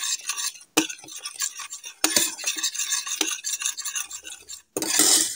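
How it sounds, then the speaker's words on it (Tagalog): A spoon stirs a sweet paprika and garlic mixture in a pan, producing busy scraping and clinking against the metal with a light sizzle underneath, broken by a couple of brief pauses. "I-mix lang natin siya. Mix natin ng maayos."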